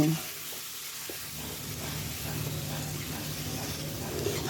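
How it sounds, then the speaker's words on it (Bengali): Spiced cauliflower sizzles as it fries in a pan, a steady close hiss with occasional stirring scrapes, and a voice talks faintly at the start. "এবার মশলার সাথে খুব ভালো করে ফুলকপিগুলো ভেজে নিব"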